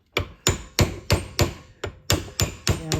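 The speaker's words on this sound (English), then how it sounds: "As I'm getting a chisel in here and I'm bending a couple of these tabs over." A hammer drives a chisel to bend metal locking tabs over on a 1955 Chevy truck steering box and intermediate shaft: about ten sharp, close metallic strikes at a steady rhythm, with no talk.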